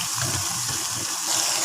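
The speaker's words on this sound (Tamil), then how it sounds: "நான் புளி தண்ணி ஊற்றுறேன்." Tamarind water is poured into a simmering dried salted fish and broad bean curry, making a steady, close gushing splash with no voices.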